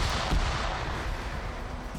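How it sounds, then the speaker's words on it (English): Grenades and grenade-launcher rounds lobbed into woods in a multiplayer military shooter game, heard as heavy, rumbling blasts that blend into a continuous roar of distant explosions. "just more grenades and GLs being lobbed into the woods"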